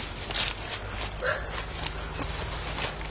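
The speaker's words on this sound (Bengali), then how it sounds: "কুকুরটা কন্টিনিউ ডাকতেছে।" A dog barks and yips repeatedly at night in an open field near a cremation ground, faint and somewhat distant, in short scattered bursts over a steady low hum.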